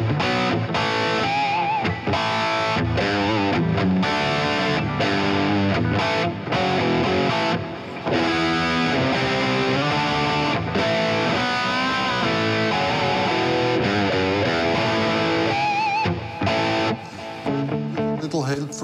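Electric guitar played through the lead channel of a Friedman Smallbox 50 amplifier, heavily distorted sustained riffs and held notes, loud and continuous with brief gaps between phrases.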